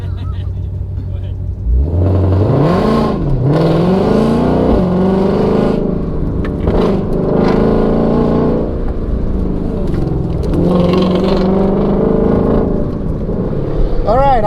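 A 2020 Ford Mustang GT500 on an autocross run, its engine revving hard through gears with rising and falling pitch, loud and close from inside the car, with people talking over it.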